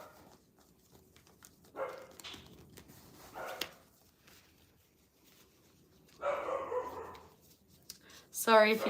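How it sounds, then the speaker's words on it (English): A dog barks in a few short bursts in the background of an indoor room, with a sharp, louder volley of barks at the very end. "Sorry if you can hear the dog barking."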